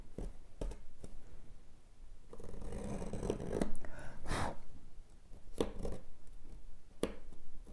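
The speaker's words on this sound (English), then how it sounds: "Come through with the chisel and clean out the extra material." A woodworking chisel cleaning out excess material from a groove for string inlay, heard as close, soft scraping and paring strokes with occasional sharp taps, irregular and fairly quiet.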